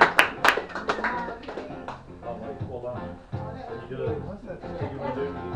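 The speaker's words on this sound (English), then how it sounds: "Please put your hands together and give a hearty cheer for Mr. and Mrs. Pam and Rob Peterson." Wedding guests applaud and cheer for the newlyweds, a burst of clapping with a few sharp whoops up front, then scattered hands and lively chatter from the crowd continuing underneath.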